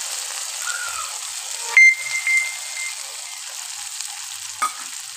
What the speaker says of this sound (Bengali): আমি ওই ভাজা মশলাগুলোর পেস্টটা এই তেলের মধ্যে দিয়ে দিলাম।